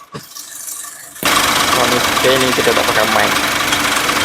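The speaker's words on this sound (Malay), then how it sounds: "Bila start, dia bunyi belting, gegar." A Honda City GM6 engine with a cracked drive belt starts up and runs at idle, a close, steady mechanical rattle and hum under someone talking.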